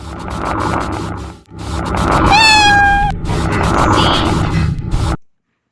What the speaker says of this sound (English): Did you just hear that meow sound? It actually just sounded exactly like the actual kill sound.